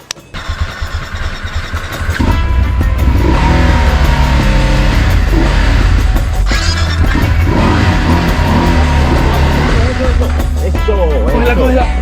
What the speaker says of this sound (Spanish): tocaba arrancar la moto, acelerar y rezar para que no se nos fuera más para atrás